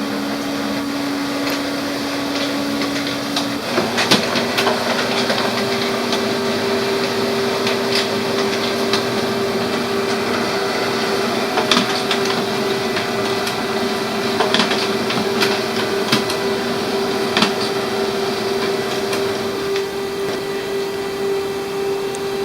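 An HP Color LaserJet Pro MFP M283 printer makes a color copy. A steady mechanical whir and hum shift in pitch early on, with scattered clicks and clunks throughout. No one speaks.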